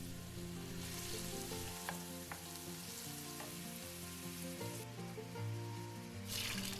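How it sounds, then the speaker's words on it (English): Onions sautéing in about four or five tablespoons of olive oil in a large pan: a steady, close sizzle and crackle runs throughout with a few sharp pops, alone without talk. "I begin to saute my onions in olive oil, about 4 or 5 tablespoons"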